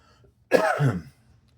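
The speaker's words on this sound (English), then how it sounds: "I'm so sorry I'm coughing" A single short, raspy cough, close and fairly loud, in an otherwise quiet room.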